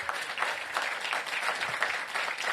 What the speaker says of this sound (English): Let's give all of our participants a big round of applause.